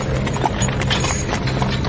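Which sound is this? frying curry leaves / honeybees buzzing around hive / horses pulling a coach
horses pulling a coach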